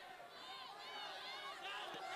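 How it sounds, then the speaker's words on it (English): Crowd of people running past in a tabletop game sound effect, a faint muffled rush of many hurried footsteps and shouting voices blended into a continuous babble. "you just hear a crowd of people go run by"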